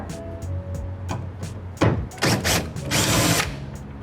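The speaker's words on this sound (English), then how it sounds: "You're going to use a T30 torque bit on this screw here and here to release the entire assembly." A power driver fitted with a T30 Torx bit spins out a tail light screw on a third-generation Toyota Tundra, whirring loud and close in several short bursts separated by brief pauses, with no talking.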